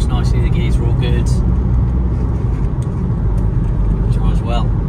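An Audi A3 1.6 TDI SE convertible from 2014 drives along a bumpy road, its engine and tyre rumble steady and close throughout, with someone talking over it.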